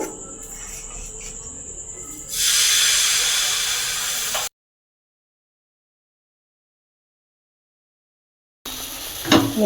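Mango patishapta batter hitting a hot oiled pan gives a loud, steady sizzling hiss lasting a couple of seconds, then goes silent, with a brief burst of sizzle and clatter returning at the end.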